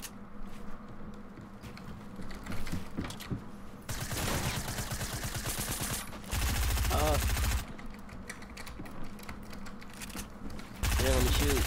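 Fortnite gunfire in a 1v1 match: repeated bursts of rapid automatic weapon fire in several loud stretches, with quieter game sounds in between.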